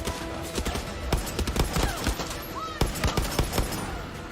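Video game gunfire crackles in rapid bursts of many overlapping shots, a dense fusillade with sharp close cracks over a steady background din, plus a few whistling tones mixed in.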